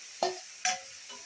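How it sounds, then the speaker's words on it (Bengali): Two short scraping stirs in a pan, a spoon pushing sizzling chicken around, with a faint third stir at the end. "এখন ভালো করে নেড়ে নিতে হবে মাংসটা"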